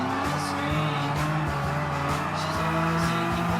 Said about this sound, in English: Give it an extra handbrake turn to do a little bit drifting